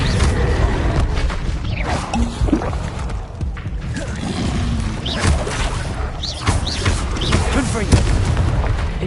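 Spell-casting blasts in a Harry Potter wizard video game: repeated booming, crashing impacts and bursts in quick succession, loud and close, with a voice calling out spell names throughout.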